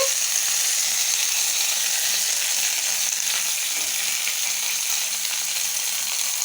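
Curry leaves sizzle in hot oil with mustard seeds while tempering a tomato chutney for dosa, a steady, dense crackling hiss that holds evenly close up throughout with no voices.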